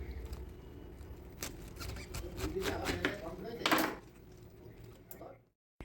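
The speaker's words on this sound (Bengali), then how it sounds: "এখন এই কপিটাকে দুটো ভাগে ভাগ করে নেব।" A knife cuts through a cabbage to halve it, with a few crunchy cuts and slices and a louder crisp stroke near the end, heard close up before a sudden silence.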